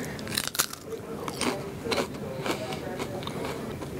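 Bites into crunchy Lay's cowboy barbecue beans flavored potato chips, several sharp crisp crunches near at hand followed by steady chewing.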